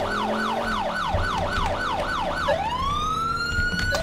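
A police car siren in GTA IV wails loud and close, cycling quickly up and down before sliding into a long rising sweep, with engine rumble beneath and no talking.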